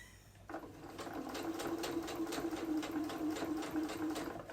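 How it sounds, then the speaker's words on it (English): A sewing machine runs at a steady fast pace after a brief quiet start, its needle mechanism producing a rapid, regular clatter over a constant motor hum, close and fairly loud with no voices. "my sewing machine is making these noises"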